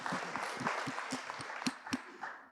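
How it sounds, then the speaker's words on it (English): Audience applause at a talk, faint and sparse, with a few distinct individual claps standing out from a thin background patter. "Give her a round of applause."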